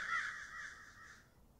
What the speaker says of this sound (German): Hast du die Krähen auch gehört?